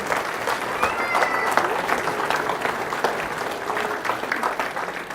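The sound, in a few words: applause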